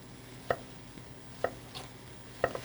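Onions being sliced very thin with a knife, heard as three sharp, evenly spaced cuts about a second apart against a board, close and alone with faint background hiss and no talking.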